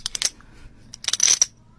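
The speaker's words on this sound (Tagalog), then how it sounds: "Barya." Coins drop and clink together in a few quick bright bursts, close and fairly loud, with short pauses between the jingles.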